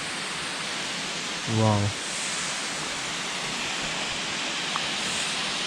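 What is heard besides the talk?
waterfall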